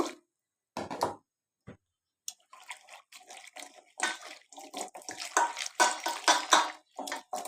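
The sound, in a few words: washing dried lote fish (shutki) in hot water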